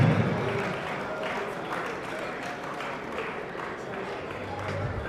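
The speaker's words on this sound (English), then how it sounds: "The wives, with a round of applause. Let's put our hands together for them." An audience at a club's end-of-year party claps in a dense, steady round of applause that stays moderately loud for a few seconds, with a voice faintly present.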